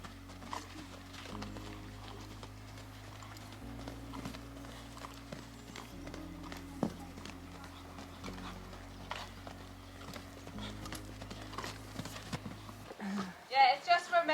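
A horse's hooves clip-clop in a steady trotting rhythm on an arena surface under a rider, with a low droning hum and people talking over it throughout.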